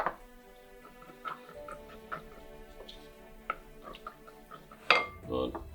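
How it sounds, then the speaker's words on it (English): A wooden spoon stirs chicken stir-fry in a pan, giving scattered light knocks and clacks at an irregular pace, quiet and close, with one louder clatter near the end. "bit of a stir around with a wooden spoon"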